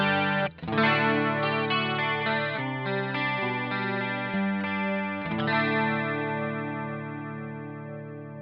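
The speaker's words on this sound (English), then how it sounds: "let's say that we would also like a little bit of chorus on the clean sound here" Electric guitar through a Boss GT-1 clean preamp patch with plate reverb and chorus, playing sustained shimmering chords and notes that ring out smoothly at a moderate level, with no talking.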